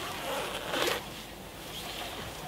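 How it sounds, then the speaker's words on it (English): Two-way zipper on the vestibule of a Nemo Losi 3P backpacking tent being pulled open, a short close rasp that swells briefly and then fades into soft fabric rustle. "a two-way zipper to open up the vestibule"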